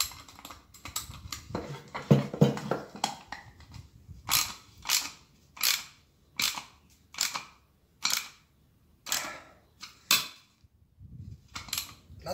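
A ratchet with a 17 mm socket tightens a nut on a homemade spool tensioner, making a series of crisp clicking bursts at roughly regular intervals, close and distinct against near silence.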